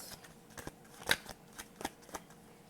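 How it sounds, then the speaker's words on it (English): Tarot cards being shuffled by hand, a faint series of soft riffling and flicking taps with one sharper snap in the middle, quiet and close with no talking. "I'm hearing shuffles, so we're going to shuffle real quick."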